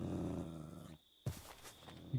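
Low growling from an animal in a survival game, a rumbling snarl that cuts off abruptly, then a few quieter growls and a final short burst.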